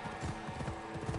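Horse hooves clip-clop in a quick, steady rhythm in the video game Assassin's Creed Odyssey, close and clear over a low game background for just over a second.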